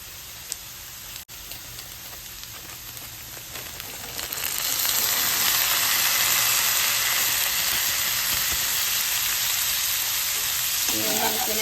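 Fried rice with green peas frying in a pan, starting as a quiet crackle and swelling into a loud, steady sizzle after a few seconds, with occasional utensil clinks.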